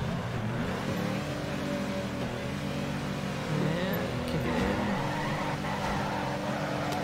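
A BMW E92 in the Torque Drift game revs and pulls hard, its engine note climbing and falling through gear changes, loud and continuous, with a voice faintly under it.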